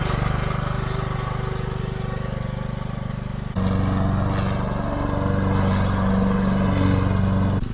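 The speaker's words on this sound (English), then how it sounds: "So we'll try to mow the field, at least a part of it, and we'll see how it goes." A lawn mower engine drones steadily while mowing a countryside field near a cottage, a close, loud, constant hum that briefly dips, then picks back up with more strain and rattle.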